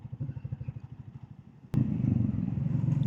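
A Royal Enfield Bullet 350 motorcycle rides in traffic near a highway, its thumping single-cylinder engine pulsing steadily. Midway a sharp click comes, then louder, broader engine and road noise carries on.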